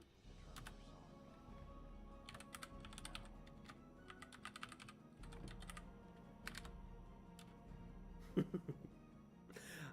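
Fingers tap on a computer keyboard in short clusters of clicks with gaps between, close but quiet over a faint steady hum.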